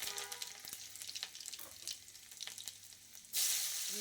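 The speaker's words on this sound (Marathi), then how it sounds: "तेल आपलं तापलेलं आहे, त्यामध्ये टाकणार आहे मोहरी, जिरं," Mustard seeds, cumin and garlic crackle and sizzle in hot oil, a soft close frying hiss with scattered pops, ending in a sudden louder burst of sizzle.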